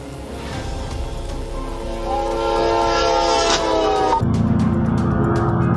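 A moving train sounds its horn at a level crossing in Turkey, a loud sustained blast over the rumble and clatter of the rolling train, with the horn's pitch shifting near the end.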